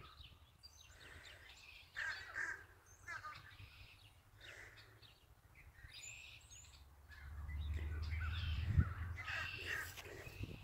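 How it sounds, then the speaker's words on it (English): Many seagulls circling overhead give repeated harsh, caw-like calls at irregular intervals, fairly faint and distant, over a low rumble of background noise that swells toward the end. "These are all seagulls."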